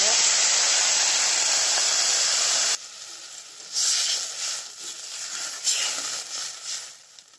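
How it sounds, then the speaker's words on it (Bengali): Water poured into a hot pan of rohu fish curry gives a loud, steady sizzling hiss that cuts off abruptly, then softer bubbling and crackling continues while someone talks. "জল দিয়ে দিলাম"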